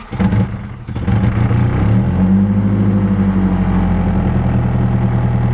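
A car with a KA engine, just fitted with a new fuel pressure regulator, cranks in a brief whirring burst. It then catches and settles into a loud, steady idle close by.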